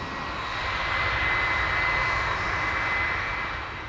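A jet engine roars loudly and steadily, a broad, dense rushing blast with a thin high whine riding on top, swelling slightly in the middle and holding close and powerful throughout with no voices.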